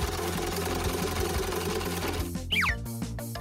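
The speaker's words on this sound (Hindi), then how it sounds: "मेरी सिलाई मशीन। इससे काम बन जाएगा।" A sewing machine runs at a steady clip, its rapid mechanical chatter continuous and close, with a few brief squeaky sounds near the end.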